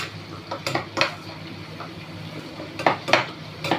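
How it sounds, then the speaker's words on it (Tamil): Neem flowers sauté in hot oil in a pan and are stirred with a utensil, giving a few sharp metallic clinks and scrapes over a soft, steady sizzle. "இந்த எண்ணெயிலேயே வந்து இது நல்லா இப்படி வதங்கட்டும்"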